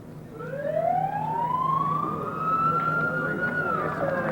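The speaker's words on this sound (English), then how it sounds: "Well, that was the siren." A golf course siren at Oakmont Country Club during the 1983 U.S. Open signals play to resume, a loud rising wail that climbs, holds steady, then drops away, heard outdoors over crowd murmur.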